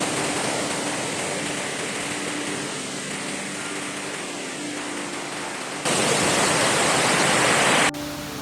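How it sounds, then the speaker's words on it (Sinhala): Paradise waterfall crashes down through dense forest on the Rathna Kanda trail, a steady, loud, close roar of falling water that swells noticeably louder near the end before easing back. "වත්තලුවේ නිර්මාණය කරන මේ දියැල්ල පැරඩයිසේ දියඇල්ල ලෙසත් හඳුන්වනවා."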